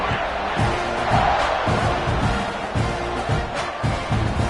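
A stadium crowd in the NCAA 26 college football video game roars steadily before a kickoff, a continuous loud wash of cheering with rhythmic thumping beneath it.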